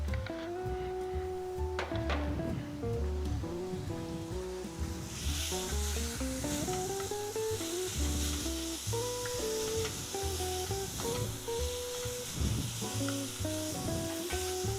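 Blended vegetables sweat and sizzle in a pan for a mother sauce, a steady frying hiss with clinks and scrapes of stirring, brightening midway as the sizzle grows louder.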